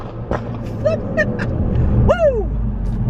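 A Ford Focus RS tuned to 420 hp with a Mountune sports cat revs hard in first gear, a loud close engine roar beneath sharp rising and falling whistles and a sweeping turbo-like chirp.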